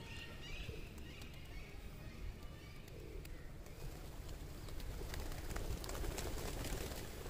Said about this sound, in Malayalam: അനേകം പ്രാവുകൾ.